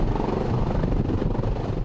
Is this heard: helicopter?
yes